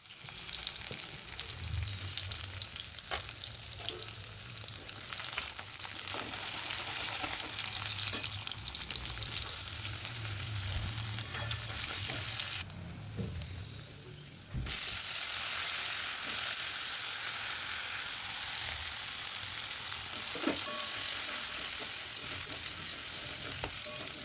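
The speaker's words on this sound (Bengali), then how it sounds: "ওটাই একটু বেগুন দিয়ে ভাজা ভাজা করছি" Eggplant pieces fry in a small amount of fish oil in a home kitchen, giving a steady, close sizzle with occasional stirring scrapes. The sizzle briefly drops away before returning loud and continuous.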